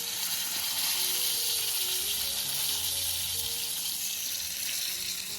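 Pomfret (paplet) fish frying in a pan for a Konkan-style crispy fry, giving a steady, loud, broadband sizzle that holds throughout with faint low hum underneath.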